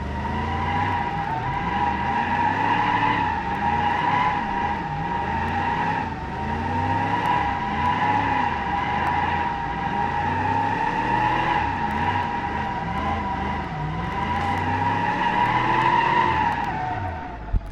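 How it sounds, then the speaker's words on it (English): Car drifting in the driving game BeamNG, with a steady engine drone and long swooping tire squeals rising and falling through repeated slides, loud and continuous without a break. "I love drifting that car."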